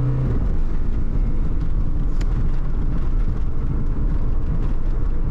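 A Peugeot 205 slams into an obstacle at 50 km/h in a crash test, a loud, dense roar of impact and grinding metal filling the moment, with a sharp crack partway through.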